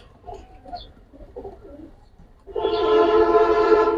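A silver military jabra pankhi pigeon coos loudly and close, a rolling throaty coo starting partway through after a few soft, faint sounds.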